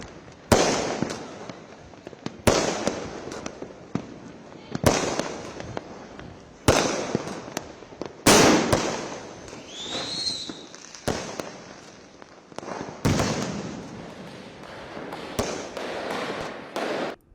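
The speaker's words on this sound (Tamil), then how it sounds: "இரவில் வெடிக்கக்கூடிய வானவெடிகள், அதிக உயரமாக சென்று கொண்டு வெடிக்கக்கூடிய வண்ண ராக்கெட்டுகள்" Fireworks and coloured rockets burst high over Chennai at night, booming in about eight loud, sharp blasts spread irregularly across the clip, each trailing into crackle and echo, with one rising whistle near the middle.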